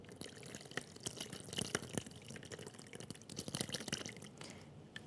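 Curdled soy milk and whey pour out while making tofu from scratch, a wet splashing and dripping stream with scattered drips and clatter, moderately faint and continuous, with no voices.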